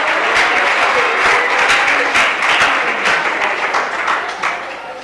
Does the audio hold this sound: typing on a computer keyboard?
no